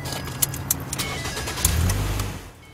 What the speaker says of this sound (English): Some people like to go out, start their vehicle up